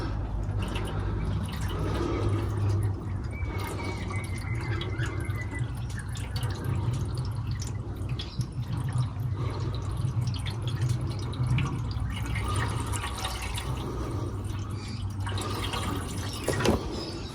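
Green coolant being poured into a John Deere 2010 diesel tractor, a steady liquid stream with occasional drips, fairly close and continuous with no talking.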